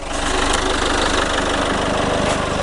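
A Citroën C2 HDi diesel engine idles steadily during a home decarbonizing treatment, a loud, continuous low rumble with a regular knocking pulse throughout and no voices.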